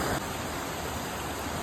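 A waterfall in Manali gives a steady, dense rush of falling water close by, a constant broadband roar with no voices over it.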